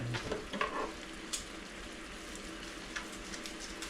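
Hot dogs straight from the freezer fry in a pan for breakfast, giving a faint, steady sizzle with a few light scrapes and stirring clicks close by.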